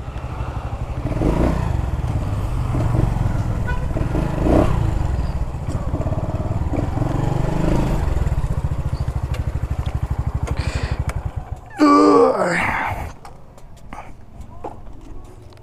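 A Honda Pop 110i motorcycle engine, running without an air filter, idles steadily with a low rumble for most of the clip, then a brief sharper mechanical burst stands out near the end.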